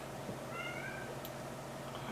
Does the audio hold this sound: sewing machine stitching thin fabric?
no